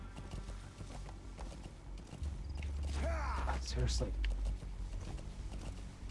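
Horse hooves gallop in Metal Gear Solid V: The Phantom Pain, a steady clip-clop rhythm close and fairly loud, with a brief voice speaking over it.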